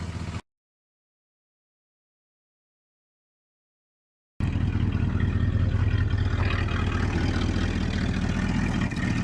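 A 1976 Ford F-250 with a 390 FE engine and leaking exhaust runs after a short silent gap, giving a steady loud, rough idling drone with a hissy edge, close to the microphone and without speech.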